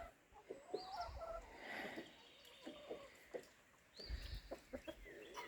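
Free-ranging hens cluck softly in short scattered calls at a moderate distance, with faint outdoor background noise and a few louder bursts.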